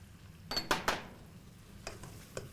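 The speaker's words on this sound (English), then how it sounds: "So, adding the soya chunks at this moment" Soaked soya chunks tumble into a hot pan for pulao, a few quick close clatters and knocks of a spoon against the pan over a faint background sizzle, then softer scattered taps.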